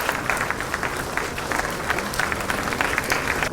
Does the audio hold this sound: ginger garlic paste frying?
no